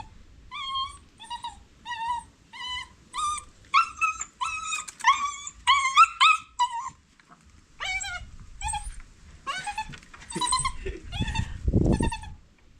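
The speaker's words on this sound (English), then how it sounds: "You know this puppy is crazy." A puppy gives a long run of high, repeated whimpers and yips in quick bursts, close and clear, with a short low rustle near the end.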